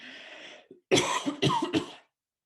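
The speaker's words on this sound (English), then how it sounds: "I may cough a little bit" A person getting over a throat ailment coughs several times in quick succession, close and fairly loud after a brief throat sound, with no talking.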